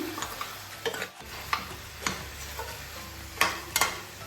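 Chicken korma with masala and ground cashews fries in a pan, a soft sizzle punctuated by several distinct stirring scrapes of a spoon against the pan.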